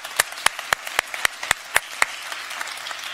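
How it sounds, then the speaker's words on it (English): Sparse, slow audience applause at a NATO conference panel, about ten distinct claps evenly spaced, fairly close and crisp, trailing off toward the end with no voices. "This is your applause."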